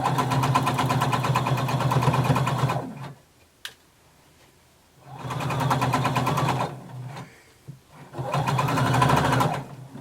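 Sewing machine stitching fabric at a regular stitch length, running in three steady bursts of rapid mechanical whirring separated by short pauses with faint clicks.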